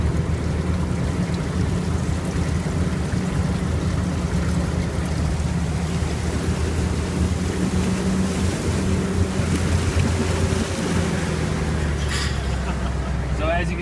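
A Humvee wading through 30 inches of water on an obstacle course, a steady close engine drone mixed with rushing, churning water and wind buffeting, continuous at high volume.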